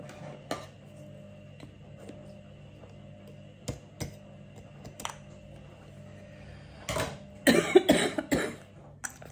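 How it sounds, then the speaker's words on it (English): A few scattered coughs and throat clears break a quiet room, ending in a louder burst of coughing near the end. "I've got a stupid cough again."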